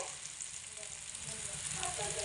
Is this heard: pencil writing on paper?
no